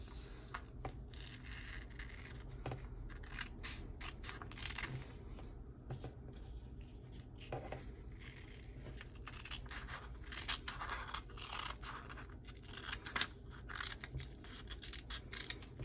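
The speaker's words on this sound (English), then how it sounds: "we are now going to cut out this entire center section" Scissors cut through paper with a run of close, crisp snips and slicing rasps at an uneven pace, with soft paper rustles between them. No one talks.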